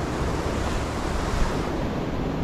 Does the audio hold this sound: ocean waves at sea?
yes